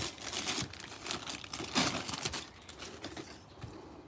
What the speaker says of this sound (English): So this is the Pumyra and the slipper and the plastic. I'm gonna rip her out